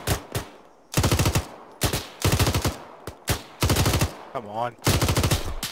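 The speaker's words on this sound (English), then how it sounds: "He's firing back now." Enemy machine-gun fire in a combat video game, repeated loud rapid bursts about a second long in a steady rhythm, with a brief spoken word between bursts.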